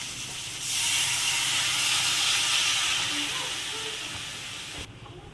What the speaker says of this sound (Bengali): আর অল্প করে দিয়ে দেবো আদা আর জিরে বাটা। এবার জল দিয়ে দেবো।